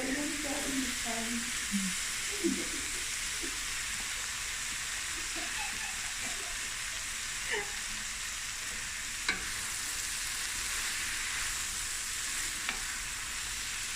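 Prawns frying in a pan with a squeeze of lemon, a steady broad sizzle with faint stirring scrapes and a few light clicks, close and alone without talk.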